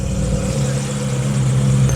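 A Ferrari 430 Scuderia with a Capristo exhaust rumbles close by on a Mumbai street, its steady engine note lifting slightly toward the end, with faint voices mixed in.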